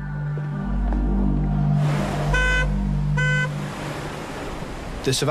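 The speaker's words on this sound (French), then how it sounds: "une voiture avec les feux stop allumés sur le côté de la route, actionnant son klaxon" A car with its brake lights on, stopped at the roadside, honks twice in short blasts over a steady engine rumble and road noise, with a sharp clatter at the end.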